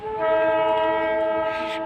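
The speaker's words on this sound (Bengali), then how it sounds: "টয় ট্রেন চলে যাচ্ছে" The Darjeeling toy train passes nearby, its horn holding a long steady loud tone over the rumble of the moving cars.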